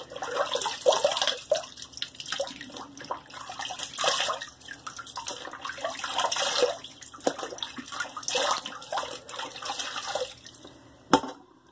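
Running water splashes as a face is rinsed after a shave with a vintage Gillette safety razor, with irregular close splashes and drips continuing steadily, then a sharp knock near the end.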